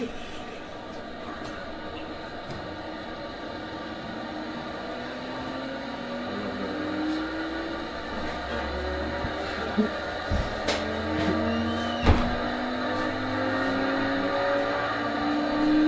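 Two-stage Tesla turbine running on its own and spinning up, a steady whir whose pitch climbs gradually throughout, with a few sharp clicks and knocks near the end.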